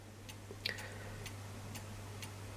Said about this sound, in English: there goes the cuckoo clock